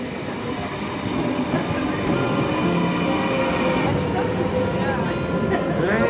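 European train station while waiting for a train: a loud rumbling passing train with rolling wheel noise and some squealing, people talking over it throughout.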